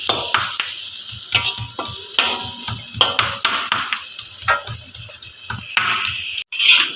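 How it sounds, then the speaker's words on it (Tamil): Onions sautéing in a pan for Malaysian-style mee goreng, a steady close sizzle broken by repeated clinks and scrapes of a spatula stirring against the pan, with no talk. "வெங்காயம் நல்லா வதங்கிட்டு இருக்குது."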